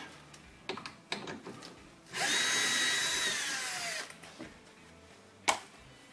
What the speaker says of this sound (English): Using the cordless drill again because it's quick.